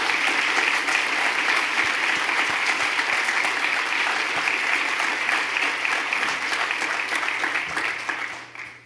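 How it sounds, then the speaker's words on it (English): Sustained audience applause at a health summit, dense steady clapping from a large crowd that continues for several seconds and then begins to fade at the end. "Wayne, you deserve a round of applause for all you've done for CSIS"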